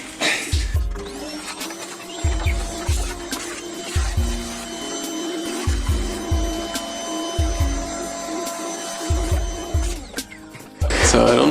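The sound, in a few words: vacuum cleaner running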